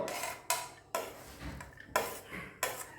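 Vegetables stirred in a metal cooking pot for a Deepavali festival meal, several sharp utensil scrapes and clanks spaced through the stretch, close and moderately loud with no talking.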